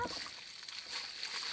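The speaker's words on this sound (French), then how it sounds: "On va mettre un petit peu d'eau au fond." Water poured into a freshly dug planting hole for a Bergeron apricot tree in December, a short soft splashing slosh heard close by with no talk over it.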